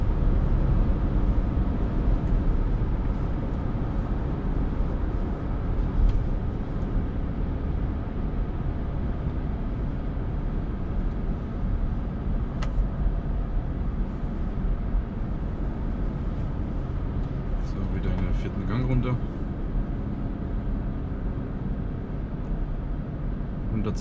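A BMW X3 F25 with the 35d N57 diesel engine and a Pipercross air filter accelerates from low revs, giving a continuous loud, dense drone with road rumble throughout, heard from inside the car.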